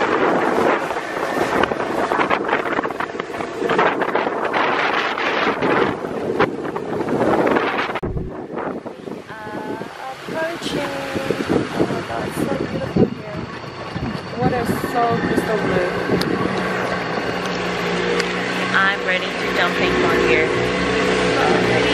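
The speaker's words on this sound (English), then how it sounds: "Taking a boat to the North Beach for lunch." A boat motors along a tropical coast toward a beach with heavy wind buffeting the microphone and water rushing past, while people talk intermittently over the noise.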